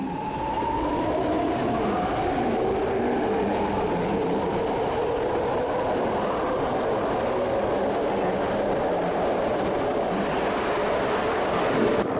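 BART legacy metro train built by Rohr Industries, about 50 years old, running along the track: a steady, loud rumble of wheels and motor with a whining tone that rises and falls, heard from on board with no talk.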